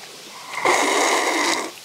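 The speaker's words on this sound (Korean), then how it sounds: "쪽 빨면 이런 소리 나." A loud, wet slurping suck while eating steamed skate with water parsley and bean sprouts, one drawn-out breathy pull lasting about a second, close to the mic, with no talking over it.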